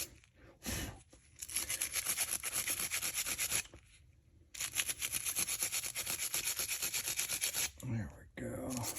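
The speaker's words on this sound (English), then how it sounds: "Grab our steel brush here. We're gonna give him a good scrubbing." Steel brush scrubbing dirt off brake parts in rapid back-and-forth strokes, a close harsh scratching in long bursts broken by short pauses.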